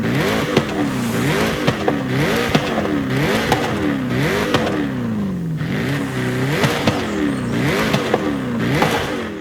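Jaguar SVR in Forza Horizon 5 revving repeatedly, engine note rising and falling in rhythmic pulls with crackling exhaust pops between them, loud and close with no talking.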